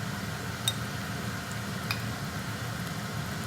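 Chicken karahi sizzles steadily in the pan as yogurt goes in, a continuous close frying hiss with a couple of faint clinks and no talking.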